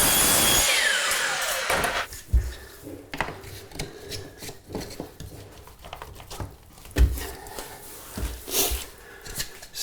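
Power saw cutting a hardwood floor board for a bathroom floor laid over heated tile: a loud, close cutting burst at the start, then lighter scraping, knocking and handling of the wood.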